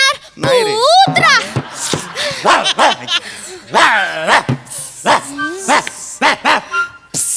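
A person imitating a dog, barking, yipping and whimpering in a series of loud, close, uneven bursts with brief gaps, mixed with speech.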